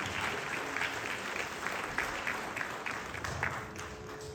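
Audience applause at a Bharatanatyam arangetram dance debut, a steady wash of many hands clapping in a hall, moderately distant and even throughout.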